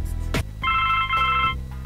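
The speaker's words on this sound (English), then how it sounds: "Phone call?" A telephone rings inside a point-and-click adventure game, two bright electronic trill bursts in a row, close and clear over a low musical backdrop.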